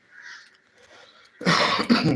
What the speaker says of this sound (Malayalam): ചുമയൊക്കെ പിടിച്ചു കേട്ടോ